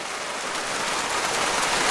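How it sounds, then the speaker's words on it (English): Steady rain falls in Florida, a dense even hiss of drops hitting surfaces that holds constant and fairly loud for the whole stretch, with no voices. "It's always raining in Florida."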